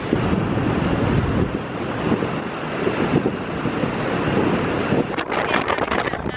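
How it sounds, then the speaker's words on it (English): Strong wind in Hawaii buffets the microphone continuously, a loud rushing roar with gusts, and a brief louder burst near the end. "because it's windy"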